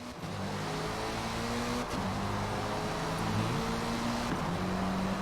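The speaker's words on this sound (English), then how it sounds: "Take a listen to this Sauber C9." A Sauber C9 race car engine in a video game, droning at a steady pitch that shifts between gears, an even, continuous motor tone with no other sounds.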